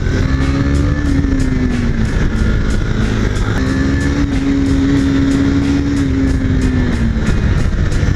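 A 2022 KTM motorcycle laps a race track, its engine holding a loud, steady drone close to the mic with small rises and dips in pitch as the rider works the throttle, joined by constant wind rush and no speech.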